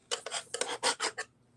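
A sanding sponge rubbed by hand over a charger plate during crafting, producing a quick series of about six close, raspy scraping strokes in an otherwise quiet room.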